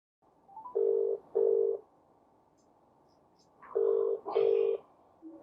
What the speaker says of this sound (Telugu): మరి ఇందులోంచి చేస్తే అతను ఎత్తుతాడా ఫోన్?